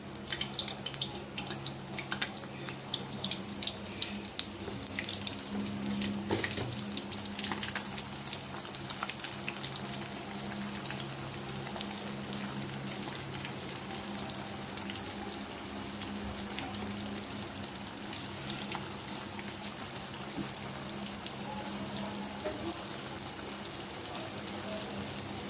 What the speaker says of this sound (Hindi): अब इसमें मैं विंग्स डालती हूँ।